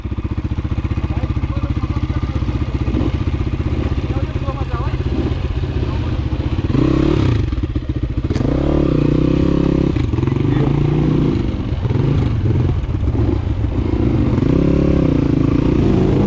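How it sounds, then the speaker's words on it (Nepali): Rieju enduro motorcycle descending a slippery, landslide-damaged hill trail in the Chandragiri Hills, its engine a loud, steady low drone that rises and falls with revs, with clattering and scraping over the rough ground and voices talking over it. "यस मोटाड बाइकलाई यस्तो कुल पाराले चलाइरहेको छ भाइले।"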